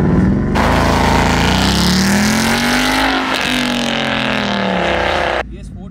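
A Ford Mustang GT convertible engine in sport mode roars loud and close, holding a steady deep rumble that rises and eases through revs before cutting off abruptly at the end.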